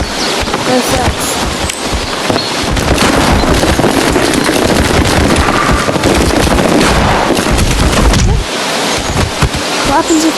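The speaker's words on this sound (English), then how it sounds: "What happens if you shoot an NPC?" Rapid bursts of gunfire in a VR shooting game, loud and dense for most of the stretch, with a short lull near the end before the shots resume.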